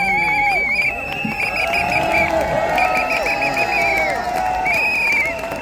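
A large outdoor crowd at a London rally for Julian Assange cheers and shouts in a loud, continuous roar that fills the whole stretch, with whistles and excited voices rising above the din.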